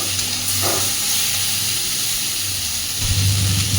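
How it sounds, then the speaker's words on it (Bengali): Vegetables fry in a pan for a light fish curry with yam, giving a steady broadband sizzle and hiss with a low hum underneath and a brief stirring scrape near the start. "সুন্দর করে এবার সব কিছুকে একটু ভেজে নেব"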